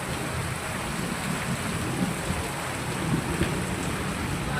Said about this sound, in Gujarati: આજે વરસાદ પહેલો વરસાદ